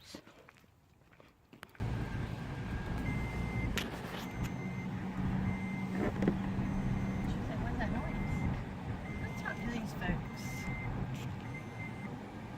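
A truck drives slowly through a residential neighborhood, its engine giving a steady low rumble, while intermittent beeping tones sound over it.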